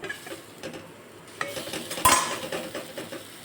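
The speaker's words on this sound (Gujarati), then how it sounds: "બધું આપણે મિક્સ કરી દઈશું." Boiled potatoes are stirred into a sizzling onion mixture in a pan for onion kachori, with scraping spoon strokes, soft clinks and a sharper clatter near the middle over a quiet frying hiss.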